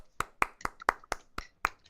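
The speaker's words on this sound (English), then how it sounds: "I'll give you a round of applause." One person gives a slow round of clapping, seven sharp, evenly spaced hand claps close by in a quiet room.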